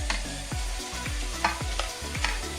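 Steady sizzling of chicken stir fry with noodles in a hot pan, with a few soft clinks and scrapes of stirring scattered throughout.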